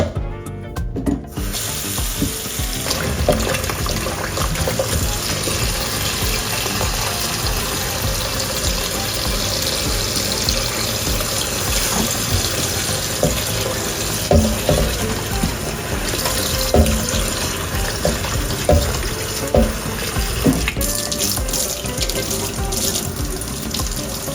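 Tap water runs steadily from a kitchen faucet into a sink while vegetables for chicken and sausage jambalaya are rinsed, a continuous close splashing with occasional rubbing and handling sounds and no talk.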